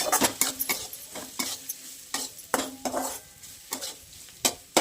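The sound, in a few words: onion sautéing in a pan on medium heat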